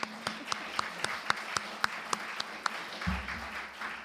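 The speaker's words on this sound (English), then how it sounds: "let's give them all a round of applause again" Sparse, distinct claps from a small luncheon audience at a chamber of commerce congressional event, heard as about a dozen separate hand claps at a steady, fairly slow pace, fairly faint, with a low rumble near the end.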